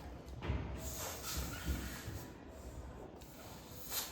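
A Spider-Man party balloon is inflated at a child's birthday, heard as faint, close hissing rushes of air in short bursts over soft background noise.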